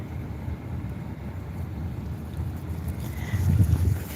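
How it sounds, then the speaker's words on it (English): Wind blows steadily outdoors as a constant, close, rumbling roar against the microphone, swelling slightly near the end. "That wind blowing too."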